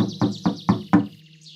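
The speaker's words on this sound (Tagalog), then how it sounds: "kumatok siya sa pinto." Four evenly spaced knocks on a door, crisp and close, followed by a quiet pause, with a faint chirpy tone running above them.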